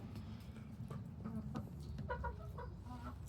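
Backyard chickens, including a red hen and a Sussex, clucking in a steady run of short calls over a constant low hum of outdoor farm ambience.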